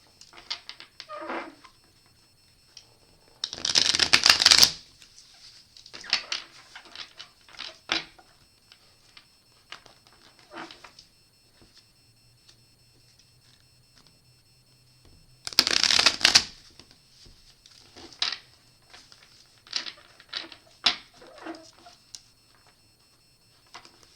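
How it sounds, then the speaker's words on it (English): Tarot cards being shuffled in two loud riffling bursts, with softer taps and handling sounds between them, close by and without any talking. "I'll give these cards a couple of shuffles here."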